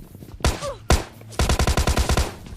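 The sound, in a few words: gunfire from teammates in video game PUBG Mobile Lite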